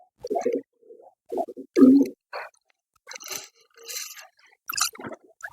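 Flying pigeons coo in a few short, low bursts close by, followed by scattered scraping and rustling noises.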